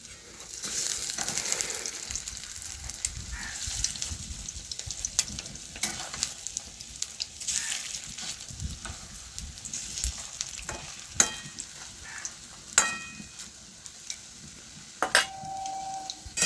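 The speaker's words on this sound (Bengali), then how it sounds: "বাকিগুলো এরকম করে ভেজে নেব" Eggs frying in a hot pan make a steady, faint sizzle, with scattered clinks and scrapes of a utensil and stirring, and no voices.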